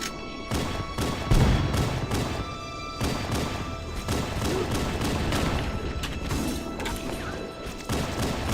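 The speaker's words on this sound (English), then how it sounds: "I hear nothing but explosions." Repeated explosions and bursts of gunfire from a Halo: Combat Evolved battle on Heroic difficulty, arriving as sharp cracks and crashes in an irregular, fairly continuous stream, with the loudest blast near the start.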